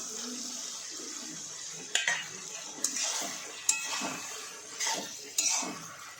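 A metal spoon stirs mixed vegetables and tomatoes in a cooking pot, giving several sharp clinks and scrapes against the pot over a soft background hiss.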